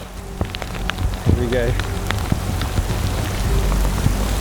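Rain patters on surfaces outdoors as a shower begins, a dense steady crackle of drops building across the clip, with a brief spoken remark near the start.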